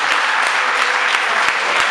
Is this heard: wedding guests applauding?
yes